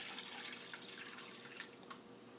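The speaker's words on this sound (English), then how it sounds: "And we're going to add some water." Water is poured steadily into a cooking pot of seasoned oxtail, a soft continuous splashing hiss heard alone at low level.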